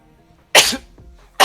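One sharp, loud sneeze bursts out close to the microphone, followed by a short trailing breath and the start of another burst at the end.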